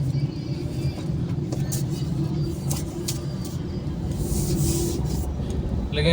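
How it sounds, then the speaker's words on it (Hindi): Steady road rumble of a four-wheeler car driving past in Pakistan traffic, a continuous low drone with faint scattered clicks, no clear voices. "ये आप देख रहे हैं खूबसूरत सा 4-व्हीलर"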